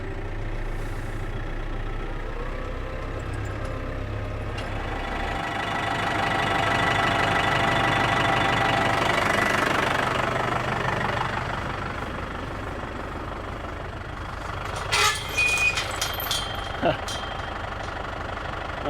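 A low tractor engine idles and chugs steadily throughout on a farm, swelling slightly in the middle, with some clatter and rustling near the end.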